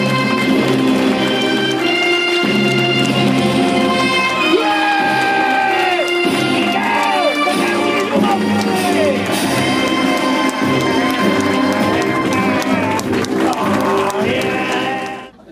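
A live theatre crowd cheers and whoops to welcome Captain Moro on stage, loud and sustained over music and shouting, with a performer's voice calling out amid the noise.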